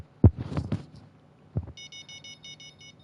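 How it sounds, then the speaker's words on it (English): Electronic beeps from the fishing video game Fishing Planet: a rapid series of about eight short, high, evenly spaced tones following a couple of soft thumps, moderately loud with no talk. "Now, I heard a few beeps"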